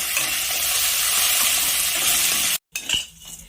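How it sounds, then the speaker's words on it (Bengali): Soaked cashews and raisins stirred with vermicelli in a hot pan sizzle steadily and close, with faint scraping. The sizzle cuts out near the end and is followed by a few clinks. "কাজু ও কিশমিশ কিছুক্ষণ নেড়ে চেড়ে সিমাইয়ের সাথে একসাথে ভেজে নেব।"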